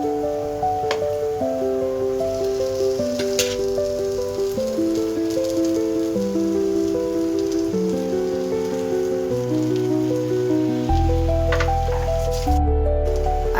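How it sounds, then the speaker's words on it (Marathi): Marinated fish goes into roasted masala in hot oil for halwa fish curry, giving off a steady, close sizzle under background music, which swells into a louder hiss near the end. "आता आपण ह्याच्यात मॅरिनेट केलेली मच्छी टाकून घेणार आहोत."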